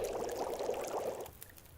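Water boiling in The Long Dark video game: a steady, moderately loud bubbling hiss that runs for about a second and a quarter, then cuts off into quiet, with no one talking.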